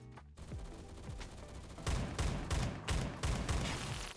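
Gunfire in the Roblox shooter Phantom Forces: a burst of rapid, sharp repeated shots following a brief earlier sound, loud and close, forming a dense fusillade with echoing tails.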